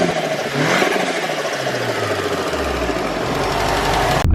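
A Mitsubishi Evo 5 with a new intake and a bigger turbo revs hard, its engine note climbing loud and close, then holding a rising drone for several seconds, with no talking.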